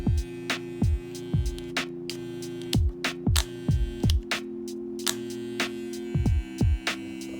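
An Andis Styliner 2 electric hair trimmer with a newly fitted power cord gives a steady electric buzz in short bursts that repeatedly switch on and off in an uneven stop-start rhythm, close and fairly loud.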